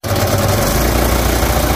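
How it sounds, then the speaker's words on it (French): A restarted car engine with a carburetor problem idling loudly and close by, a steady low rumble with a faint rhythmic pulse and no voices. "Bon, j'ai redémarré ton moteur."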